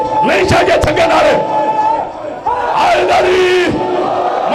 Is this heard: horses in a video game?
no